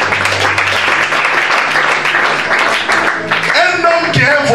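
A church congregation at a Bible teaching session breaks into loud, sustained applause while a preacher's amplified voice talks over the clapping.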